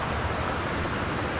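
Heavy torrential rain in Gone Home, a dense, steady, loud hiss of rainfall filling the scene with no pauses and no voices.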